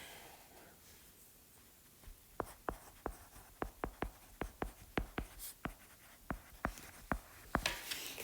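A pen or chalk scratches out an equation, with a quick series of sharp, evenly paced strokes and taps close by against a faint background hum.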